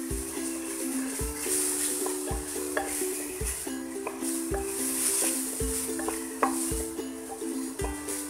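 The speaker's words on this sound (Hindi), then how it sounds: "हल्दी, चिली फ्लेक्स और ये धनिया पाउडर, अच्छे से मिक्स करेंगे" Turmeric, chili flakes and coriander powder being stirred into keema frying in a pan for bhuna keema, with a steady sizzle and regular spoon scrapes and knocks against the pan, close and fairly loud.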